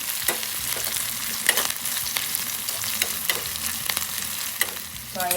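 Cumin seeds and green chili fry in a pan, a continuous crackling sizzle broken by frequent scraping strokes of a spoon as they are stirred, close up with no talking.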